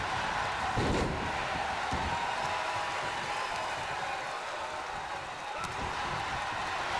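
A wrestling arena crowd in the WWE2K22 video game roars as a continuous, fairly faint wash of cheering, with a thud of impact near the start.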